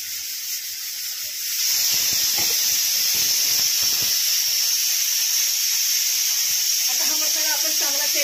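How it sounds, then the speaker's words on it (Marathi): Ground wet masala frying in hot oil for a pomfret curry, a loud steady sizzle and hiss that starts after a second and holds continuously, with soft bubbling spits and light stirring scrapes near the end. "आता हा मसाला आपण चांगला तेलात फ्राय करून घेऊया."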